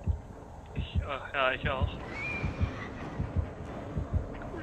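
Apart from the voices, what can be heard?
heartbeat of the killer approaching in the video game Dead by Daylight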